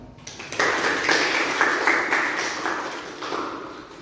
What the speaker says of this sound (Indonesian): tepuk tangan untuk Naura.